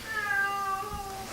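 A cat lets out a single drawn-out, wavering meow lasting over a second, close and fairly loud, with no talking over it.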